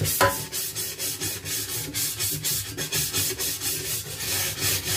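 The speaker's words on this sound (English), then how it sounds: "Use the brush with plastic bristles, as we say. Start brushing it all around." A plastic-bristle brush scrubs a soapy grill toaster, giving rapid, rhythmic rasping strokes at a brisk even pace, close and fairly loud throughout, with no voices.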